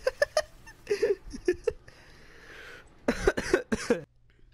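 A person coughs in harsh bursts during a funny Destiny 2 gaming session, with clusters of close, loud coughs separated by a brief quieter stretch.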